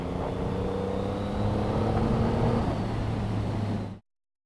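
Engine of a 2020 Triumph Rocket 3 R motorcycle pulls hard under acceleration, a loud, steady low roar with rising harmonic tones for about four seconds before cutting off abruptly.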